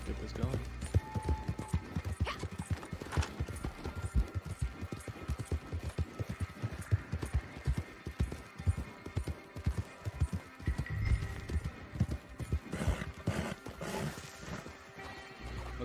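A horse in Red Dead Online clip-clops along in a steady run of hoofbeats, with scattered sharp reports and game sounds around it and a player's voice talking over it.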